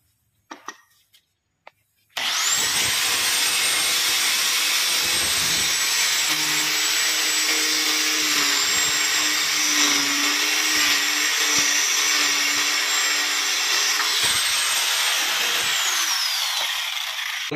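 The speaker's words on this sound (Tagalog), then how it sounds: "gamit lang natin yung grinder at saka cutting disc" An angle grinder fitted with a cutting disc slices through WPC flute cladding, a loud steady whine that starts abruptly after a few light knocks and holds for about fifteen seconds before dropping away.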